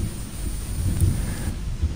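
Steady rain with low rumbling thunder in a Roblox camp survival game, a continuous wash of rainfall under a deep, swelling rumble that peaks around the middle and again near the end.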